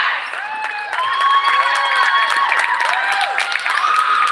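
Home crowd at a varsity girls basketball game cheers and applauds in a gym, a steady, loud wash of claps and shouts with whistle-like squeaks over the top.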